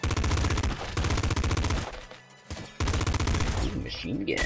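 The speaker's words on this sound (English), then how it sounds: "Ooh, machine gun." Machine gun in the video game Nuclear Throne fires in dense rapid bursts, loud and continuous with a short pause midway, mixed with game effects.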